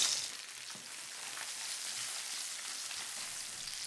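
Garlic and chili fry in olive oil in a pan, giving a soft, steady, airy sizzle that starts slightly louder and then settles at a faint, even level.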